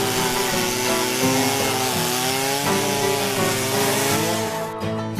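Husqvarna chainsaw sawing wood, its engine roaring loud and close in one unbroken stretch, the pitch wavering as the chain works through the log, with no talk.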